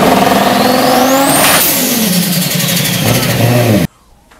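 A turbocharged car engine, a small engine, accelerates and revs hard, loud and close with a rising pitch, then cuts off abruptly near the end.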